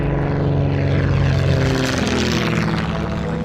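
A propeller training plane at an East Coast air base drones loud and close, its steady engine hum and rich harmonic buzz holding level for the whole stretch with no voices.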